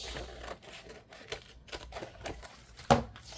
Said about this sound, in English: Bigger scissors here, I can get some headway.